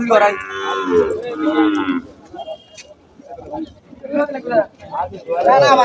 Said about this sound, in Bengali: আসলে অসংখ্য গরু রয়েছে এখানে